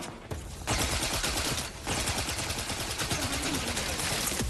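Sustained heavy gunfire rattles through a video game battle, dense overlapping bursts with a short lull before the shooting resumes loud and continuous.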